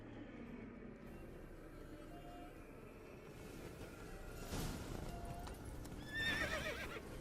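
Horse in the video game The Witcher 3 with a loud neigh and clip-clop hoofbeats over a low, steady game ambience, ending in a sharp whinny near the close.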